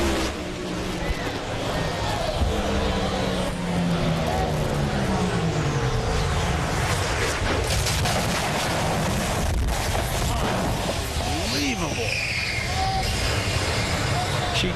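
An NHRA drag racing car makes its run and crashes, its parachutes deploying and tearing away; loud, continuous broadband engine roar with shifting tonal sweeps fills the whole stretch, with some commentary talk mixed in.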